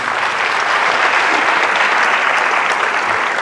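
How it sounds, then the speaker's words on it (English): A steady, full round of audience applause for committee volunteers at a realtors' forum, even and continuous throughout with no talking over it. "those volunteers deserve a huge round of applause"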